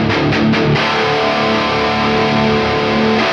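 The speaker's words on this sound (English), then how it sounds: "So I'm gonna boost the gain on the Revival Drive while we've got this super wide guitar sound going on." Electric guitar through an Origin Effects Revival Drive Hot Rod with the gain boosted, a loud, thick, sustained distorted chord with a wide tone, ringing out alone after a few quick strums.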